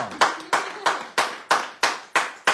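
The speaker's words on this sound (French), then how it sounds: "vous pouvez l'applaudir aussi" An audience on a radio show claps together in a steady rhythmic beat. The sharp claps land about three times a second, clear and close, with no talking over them.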